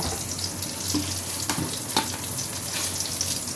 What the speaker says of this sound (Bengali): তেলের মধ্যে একটু মিষ্টি দিয়ে দিলাম। তেলটা গরম হতে থাক।